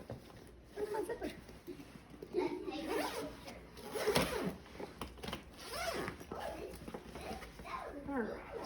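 A zipper is pulled open in a home kitchen, with short rasping zips mixed with a person talking close by.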